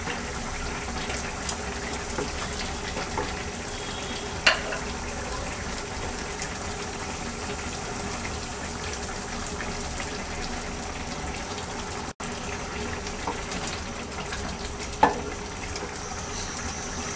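Fish cooking with flat beans and potatoes in a pan gives off a steady, soft sizzle that runs evenly throughout, with a couple of faint clinks.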